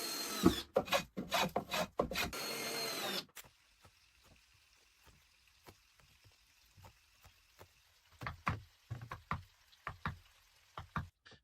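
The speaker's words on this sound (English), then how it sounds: "Continual planing on site guarantees that variations in plank thickness are blended out seamlessly" Hand planing of wooden floor planks for an underground log cabin, a burst of rasping strokes at the start, then quieter scattered knocks and scrapes, with sharper wooden knocks returning toward the end.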